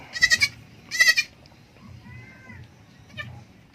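A goat kid born the day before bleats twice in quick succession, fairly close and loud, followed by quieter farmyard background and a faint third cry.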